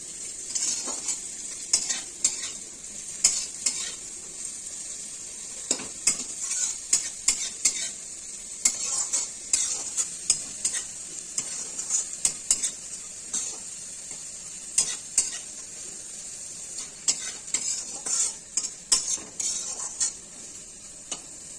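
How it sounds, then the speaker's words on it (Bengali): Pumpkin, potato and bitter gourd frying in a pan, a steady bright sizzle throughout with frequent light taps and scrapes of a utensil stirring, no voices. "সুন্দর করে ভাজা হচ্ছে"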